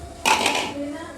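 A sharp clatter as a mixer grinder jar is set onto the mixer base in a home kitchen, followed by a short ringing tail, with a voice faintly in the background.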